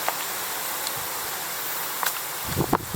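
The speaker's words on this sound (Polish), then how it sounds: "Niestety są takie wiatry, bo nagrywam film." Wind gusting through the trees of an apple orchard, with soft continuous leaf rustling and a few faint crackles and knocks near the end, without talk.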